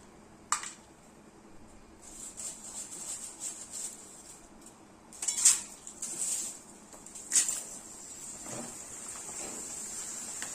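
Maize poha frying in very hot oil over a high flame for poha chivda, giving a soft, continuous hiss of sizzling with a few sharper crackling bursts as batches hit the oil.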